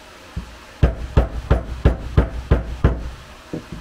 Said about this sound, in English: we will gently tap this one in